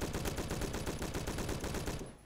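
Sustained automatic fire from an STG-44 rifle in the Roblox game Phantom Forces, a rapid, even burst of loud shots running for about two seconds before cutting off abruptly.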